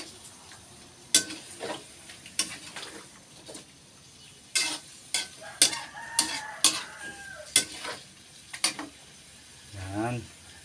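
Food being stirred in a cooking pan, with repeated sharp scraping strokes and sizzling at a steady, irregular rhythm, heard up close; a rooster crows and a chicken clucks in the background.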